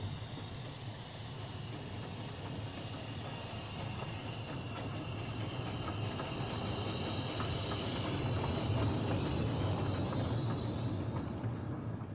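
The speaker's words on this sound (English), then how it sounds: "well-proportioned stock and locos at work" Continuous broad hiss and rumble of a UK locomotive and train passing, steady throughout and growing slightly louder toward the end.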